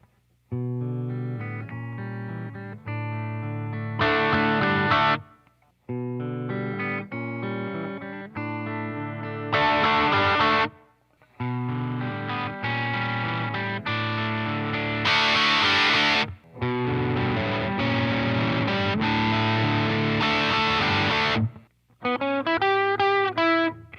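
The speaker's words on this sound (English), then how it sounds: "how soon each pedal begins to distort, and second, how distorted each pedal sounds as I replay the examples" Electric guitar played through a series of overdrive and distortion pedals, short repeated riffs and chords separated by brief pauses, each pass growing grittier and more saturated, loud and close with no talking.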